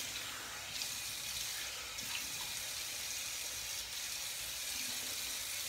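A tap runs steadily into a sink while someone rinses off after shaving, a continuous close splashing water rush with no voices over it.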